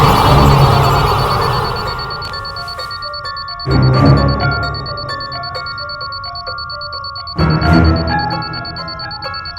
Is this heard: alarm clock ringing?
yes